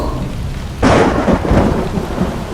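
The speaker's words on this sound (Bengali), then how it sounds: "সকালবেলা চারিদিকে মেঘ করে বৃষ্টি হতে থাকে।" Cartoon rain and thunder: a steady hiss of rain breaks into a loud, close crash of thunder that rumbles on over continuing downpour, with no voices.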